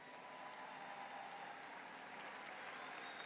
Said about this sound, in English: I think you deserve a very special round of applause.